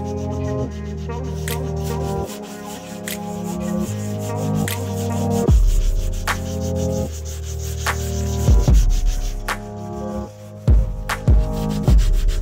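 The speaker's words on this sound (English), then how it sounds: "the affected panels are sanded down to smoothness." Body panels on a Nissan Bluebird being sanded smooth after dent repair: steady rubbing strokes with a humming tone underneath and occasional sharp knocks, fairly close, with no talking.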